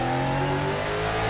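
Race car engine holding a loud, steady high-revving drone from close range, with no talk over it.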